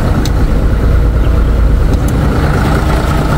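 A Mitsubishi Fuso Fighter truck's 6M60 diesel engine, showing many fault codes, runs at a steady loud idle throughout, a close, even rumble with a couple of faint clicks.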